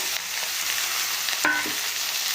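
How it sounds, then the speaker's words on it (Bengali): Two large tomatoes dropped into frying spice paste for a poi saag curry, a continuous crackling fry with a brief clatter and splash midway, close and unaccompanied by voices. "মশলাটা অনেকটাই ভাজা হয়ে গেছে, এতে এবার আমরা দিয়ে দিচ্ছি দুটো বড় বড় টমেটো"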